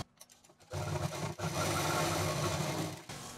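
A double-needle sewing machine stitches down the belt strap of a fabric sling bag, first with a few short stuttering stitches and then a steady, close, continuous whirring run.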